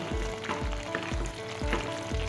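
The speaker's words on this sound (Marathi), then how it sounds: "वाह काय सुंदर उकळत आपली भाजी" A pan of sour potato curry (Malvani/Goan ambat batata bhaji) bubbling and sizzling steadily, with a soft stirring thump recurring about every half second, close up.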